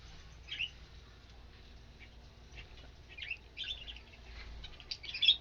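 White and brown doves in an aviary with nesting boxes give faint, scattered chirps and short squawky calls over a quiet low hum, a few notes growing slightly louder near the end.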